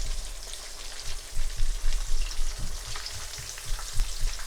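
Chicken breast sizzles and crackles steadily in hot oil for a French fried chicken dish, a dense bubbling hiss with irregular pops, close and continuous with no talking.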